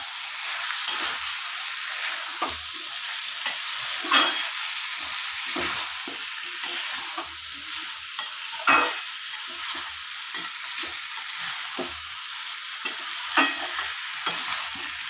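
Masala paste sizzles in oil in a pan for an elephant foot yam and prawn dish, stirred with frequent scraping strokes over a steady hiss, close and fairly loud, with no talking.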